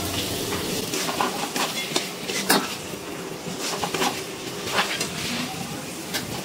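Fried eggs are stirred into sizzling biryani masala in a pot, with a spoon scraping and clinking against the metal over a constant frying hiss.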